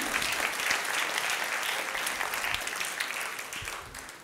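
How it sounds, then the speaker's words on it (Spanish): Loud, sustained applause fills a church service as the congregation claps together, a dense continuous wash that slowly eases toward the end. "Dele un fuerte aplauso al rey."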